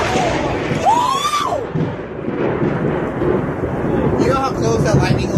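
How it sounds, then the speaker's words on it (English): Thunder from a nearby lightning strike during a storm, a broad rumbling roar that swells and lingers across the whole stretch, with wind and rain noise underneath and people talking and exclaiming over it. "You know how close that lightning was?"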